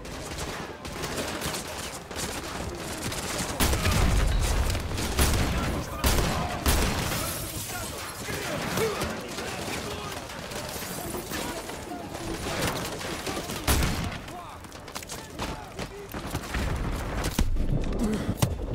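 Rapid gunfire rattles through a Modern Warfare 2 Remastered firefight in the Whiskey Hotel mission, with loud, dense bursts and sharp cracks overlapping almost nonstop.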